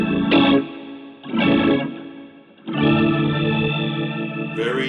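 Organ-like guitar tone from a Boss GT-100 multi-effects unit with a warbling chorus effect, played as three sustained, rich chords that swell in, the last held long and fading slightly.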